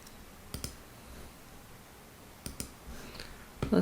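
A few soft, close computer mouse clicks, two pairs of quick taps separated by a pause, over faint room hiss.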